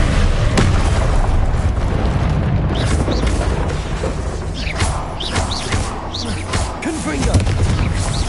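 Confringo fire spell blasts in the game Hogwarts Legacy land as loud, heavy booms and bursts amid dense, continuous battle sounds.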